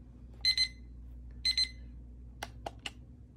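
A projection alarm clock sounds two pairs of quick, bright electronic beeps a second apart, then a few sharp clicks follow, close and clear over a quiet background hum.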